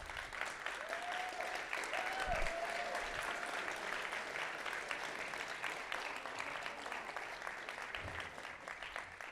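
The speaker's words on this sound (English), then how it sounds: "Let's give a big round of applause for James, Owen, and Destiny" Steady audience applause after a debate event, a continuous wash of clapping from a crowd at moderate distance, with faint voices mixed underneath.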